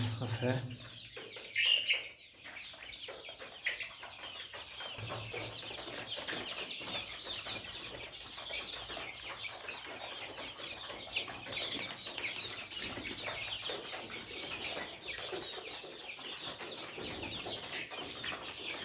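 Layer chicks, 26 days old, cluck and murmur continuously in a busy flock, with a brief wing flap early on, steady and moderately loud throughout.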